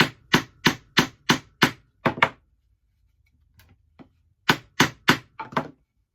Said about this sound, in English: I'm just going to hammer this in